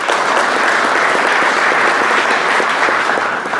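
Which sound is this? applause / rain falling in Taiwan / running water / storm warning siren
applause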